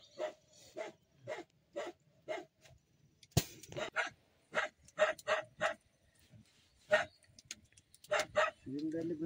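A dog barks repeatedly, with short sharp barks in uneven bursts, somewhere in a rainy Himalayan village in Nepal. The barks sound moderately distant, and people talk in between.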